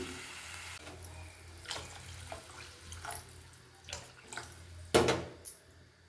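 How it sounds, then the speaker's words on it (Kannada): About two glasses of water splash and pour in short bursts into a pan for rava khara bath, with a louder gush near the end over a low steady hum. "ನೋಡಿ ಇವಾಗ ನಾನು ನೀರನ್ನು ಹಾಕ್ಕೊಳ್ತಾ ಇದ್ದೀನಿ"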